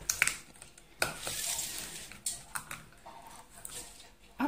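A saucepan and a mug handled in a home kitchen: scattered clinks, knocks and scrapes of cookware at close range, irregular and fairly quiet, with no talk.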